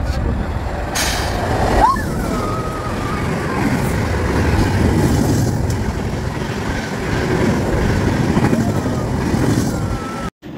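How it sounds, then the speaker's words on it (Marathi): Broad, steady rail rumble fills a station platform, with a brief rising squeal like brakes near the two-second mark and a continuous roar throughout; voices are faintly present in the background. "बस आता 1 वाजता ट्रेन येईल."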